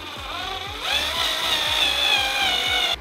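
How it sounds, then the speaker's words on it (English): A power drill whirs steadily into wood while drilling a pilot hole on a bedroom furniture piece, its motor pitch rising as it bites in and running for a couple of seconds before stopping. "So I'm gonna do a pilot hole now, which is just a hole before I put the screw."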